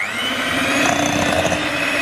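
A motorized whisk runs steadily, close and loud, creaming butter for a basketball cake.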